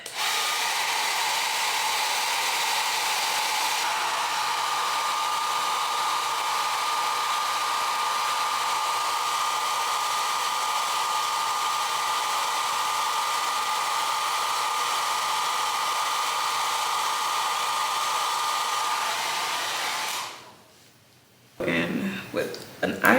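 A hair dryer blows steadily on a wig, a loud continuous whooshing whine lasting about twenty seconds before switching off, followed by brief handling noise.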